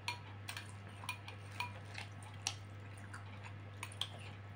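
Close, quiet chewing of a large, dense, springy bakso meatball, with soft wet squishes and bites recurring about every half second over a steady low electrical hum.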